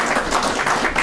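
A short burst of steady clapping from a small group at a town Board of Selectmen meeting, fairly loud and close.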